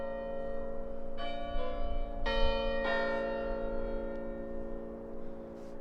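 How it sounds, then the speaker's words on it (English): A church bell rings in Ballyshannon, Ireland, with clear strokes at a steady, unhurried pace, each tone hanging and overlapping the next over a constant low hum of the outdoor background. "the bell is ringing again"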